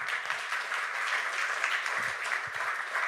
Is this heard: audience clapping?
yes